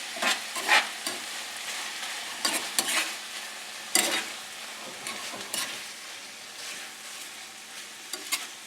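Lamb sizzles in a hot pan while it is stirred. Scraping bursts of the spoon recur over a steady close frying hiss, with no talking.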